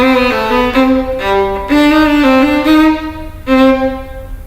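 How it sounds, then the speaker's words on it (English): Solo violin plays slow trills that finish with Nachschlag grace notes, a few wavering phrases separated by short breaks, close and loud with no voices. "The Nachschlags are the grace notes that come after the trills."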